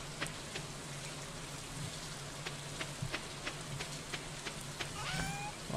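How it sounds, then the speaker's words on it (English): Steady rain falls in Stardew Valley, a soft continuous patter with light individual drop ticks scattered throughout, fairly quiet and even. "Oh, it is rainy today."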